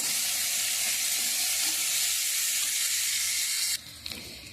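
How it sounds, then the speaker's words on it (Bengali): Chopped onions fry in hot oil for Bengali pabda fish curry, giving a steady, close, loud sizzle that drops off abruptly near the end, with no talk. "পেঁয়াজ কুচিগুলো দিয়ে দেবো পেঁয়াজগুলো ভালো করে একটু ভেজে নিতে হবে"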